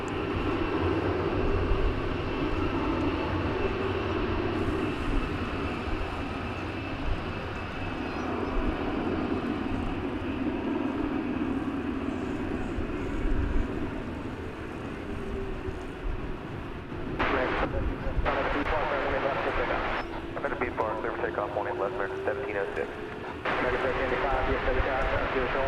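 American Airlines Airbus A321 taking off at DFW, a sustained loud jet engine roar with shifting tones over nearly half a minute, while a person talks over it.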